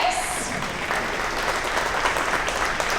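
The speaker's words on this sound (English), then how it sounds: "you can clap for them" Steady applause from an audience at a school second-grade promotion ceremony fills the space, a dense continuous patter of clapping with a voice faintly audible beneath it.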